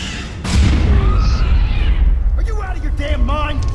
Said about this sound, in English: they didn't fix the explosion and smoke itself